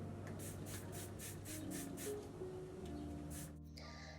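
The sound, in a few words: spray bottle spraying water on hair locs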